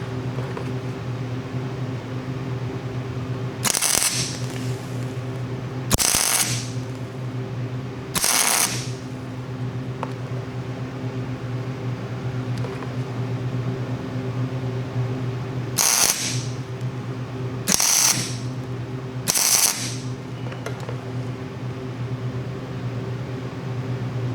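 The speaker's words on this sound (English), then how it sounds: "so we got our ground hooked up to this head bolt here, and let's build up some weld" Arc welder building up weld on a broken head bolt with the ground clamped to the bolt: six separate bursts of broadband crackling hiss, each a second or so long, stand over a steady mechanical hum.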